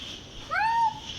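A single short cat meow rises then holds, close and clear against quiet background noise, from a cat arriving in airport cargo.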